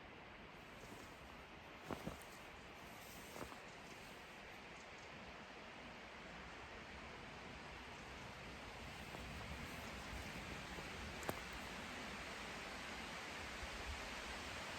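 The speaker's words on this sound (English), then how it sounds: "Kind of sounds like wind, but actually I think it's rain." Heavy rain falls outside during a storm, a steady, dense hiss that holds for the whole stretch with a few faint knocks, with no voices.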